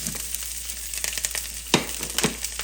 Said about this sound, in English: after about 2 minutes or so of searing, I'm going to go ahead and add my herbs and my garlic